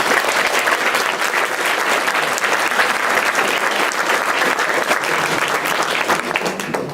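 Sustained, dense applause fills a research night event hall, a steady roar of many hands clapping for about seven seconds with no voices over it.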